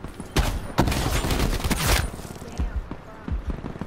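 Gunshots from the Battlefield Hardline Alcatraz map crack out in quick close bursts, followed by a few spaced single shots, while a player speaks over the firing.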